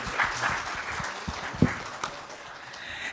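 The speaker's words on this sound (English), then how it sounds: "let's have a great round of applause for us" Applause from the audience at a performance marketing conference, moderate clapping that peaks early and thins out, with a few louder claps and a voice briefly audible over it.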